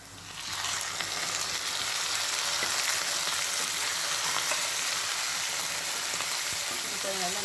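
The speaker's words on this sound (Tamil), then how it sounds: "இப்போ கோல்டன் ப்ரௌன் கலர் வந்ததோடனே நம்ம வச்சுருக்கிற ஈரலை ஆட் பண்ணிடலாம்." Chicken liver frying in a pan with onions and masala, a steady, close sizzle that holds at an even level throughout.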